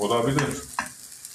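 Peas sizzle and crackle frying in hot oil, a soft steady frying hiss with a brief voice and a stirring clink partway through.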